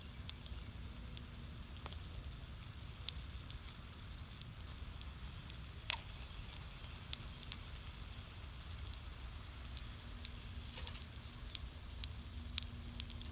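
Coffee with grounds in a WW1 canteen over a turned-down fire, with a steady low bubbling and crackling simmer, soft, even and continuous, with occasional faint pops and no talking.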